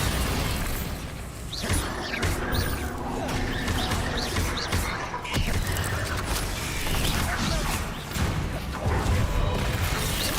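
Bombarda blasting spells in Hogwarts Legacy crash and boom repeatedly amid a dense, continuous clatter of combat noise, with sharp impacts scattered throughout and a brief voice in the background.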